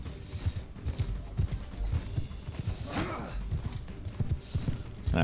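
Rhythmic hoofbeats of a galloping horse in Mount & Blade II: Bannerlord clatter along during a tournament, with a brief neigh partway through and faint talk in the background.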